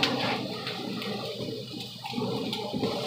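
Hands are washed under a running kitchen tap, a close, steady rush of water with slight splashing and rubbing throughout, no talking.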